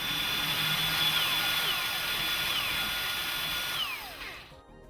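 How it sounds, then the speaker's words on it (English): A power drill bores small pilot holes into the underside of a lipped work desk, a steady whining run lasting several seconds that slows and cuts off near the end, with no talking. "You're now ready to drill small pilot holes."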